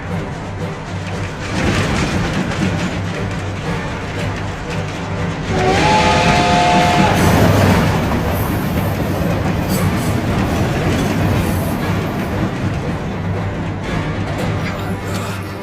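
An anime train rumbles along the tracks with a steady rolling clatter, and a whistle sounds briefly in the middle over the continuous running noise.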